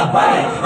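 A crowd at a Lahore religious gathering shouts a slogan in unison, a brief, loud, massed roar of many voices lasting under a second.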